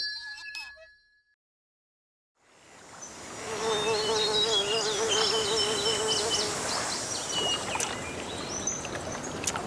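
Flies buzz close and steadily around fish, a dense droning hum that starts after a short silence and keeps going, with faint clinks in the background.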